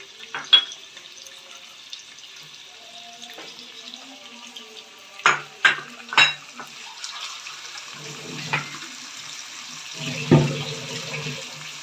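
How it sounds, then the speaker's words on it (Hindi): Potatoes and peas are stirred while frying in a pan, a soft sizzle punctuated by several louder scraping, stirring bursts, close by with no talk. "अब इन दोनों चीज़ों को अच्छी तरह भून लेंगे।"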